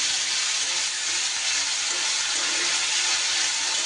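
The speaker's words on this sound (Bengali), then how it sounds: "পেঁয়াজের যতক্ষণ কাঁচা গন্ধ না যাচ্ছে একটু ভালো করে ভাজা ভাজা করে নেব" Grated onion fries in a pan with a steady, dense sizzle and fine crackle. It is close and even throughout, with no talking.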